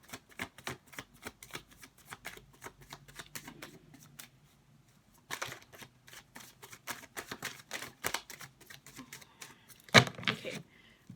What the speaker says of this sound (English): we're gonna do 3 more shuffles